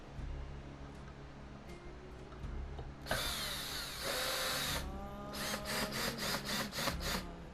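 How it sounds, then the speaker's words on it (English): A power screwdriver drives screws into a wooden Christmas tree decoration in a garage workshop. One sustained whirring run is followed by a series of short, rapid pulses, all close and loud over a low background hum. "I think I will start getting the screws in there"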